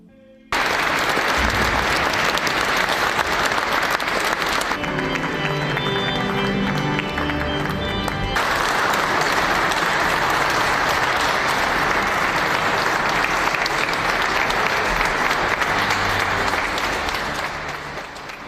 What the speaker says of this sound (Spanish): así fue el aplauso que le dieron los cardenales al Papa León XIV justo después de que fue electo en la Capilla Sixtina